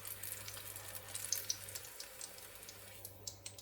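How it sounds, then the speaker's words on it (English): A slice of onion frying in hot oil gives off a faint, continuous crackle with small scattered pops. "let's test with a slice of onion if our oil is hot."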